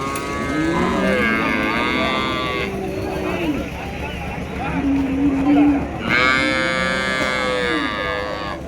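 Calves mooing at a village livestock market in Madhurapakkam, several drawn-out moos overlapping in sequence amid crowd murmur and market bustle, with someone talking nearby.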